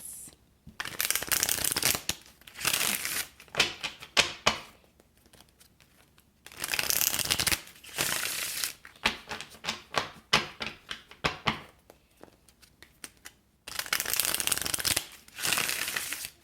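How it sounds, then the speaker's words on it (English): Tarot cards are shuffled in three long bursts of rapid riffling, separated by quieter pauses with soft handling sounds. "So I'm going to shuffle this."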